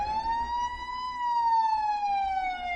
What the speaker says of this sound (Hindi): तभी दरवाजे से पुलिस सायरन्स की आवाज सुनाई दी